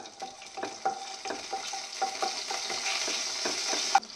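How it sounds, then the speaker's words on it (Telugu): Cumin and mustard seeds sizzle in hot oil close by, a steady fizzing hiss broken by repeated short taps and pops from stirring, with no voices. "యాడ్ చేసి కొంచెం జీలకర్ర అండ్ ఆవాలు అనేది యాడ్ చేసుకోవాలి"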